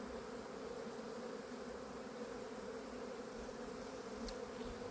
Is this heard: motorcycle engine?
no